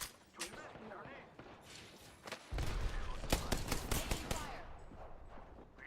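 Video game gunfire with repeated sharp shots and bursts of rapid fire, loud and close, a denser barrage in the second half, with heavy impacts beneath.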